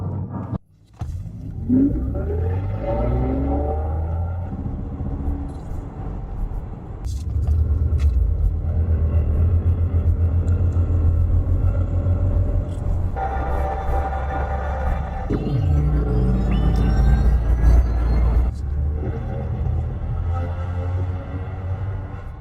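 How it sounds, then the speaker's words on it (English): A Mercedes-Benz CLA electric car drives along with a steady low rumble and a smooth synthetic driving sound that rises and shifts in pitch as it speeds up, heard from inside. "This new Mercedes-Benz all-electric CLA actually made me accept electric driving sounds"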